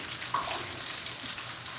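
Broth pours steadily into a cooking pot in a home kitchen, a continuous close splashing trickle that keeps up without pause and with no talking.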